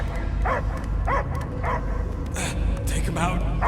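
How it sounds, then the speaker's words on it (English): A dog barks and yips in short repeated bursts in the Guardians of the Galaxy video game, the barks set against a steady low rumble and game ambience, with a voice speaking over part of it. "I hear only barking."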